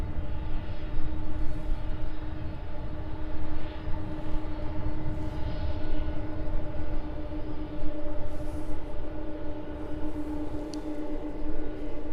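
Boeing 747 cargo jet taxiing toward the runway at East Midlands Airport, a steady, continuous engine drone and rumble with a constant tonal whine, held at a fairly even loudness throughout with no talking.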